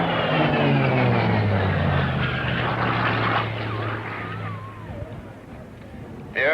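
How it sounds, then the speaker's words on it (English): An ex-Navy propeller aircraft in service from 1947 to 1954 flies past at an air show at Cranfield, its loud, steady engine drone fading gradually and overlaid by a commentator's voice. "The aircraft you see flying in fact served with the Navy from 47 to 54."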